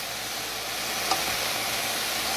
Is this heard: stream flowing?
no